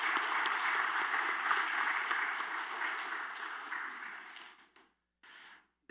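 A church congregation claps for the choir and worship team during a Sunday service, a steady dense round of applause that fades out near the end, followed by a brief short burst.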